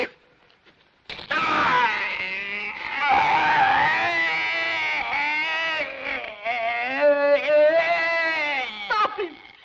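A man gives anguished, drawn-out cries that waver and rise into screams. The voice is strained and loud and alternates with groaning wails in a historical film scene.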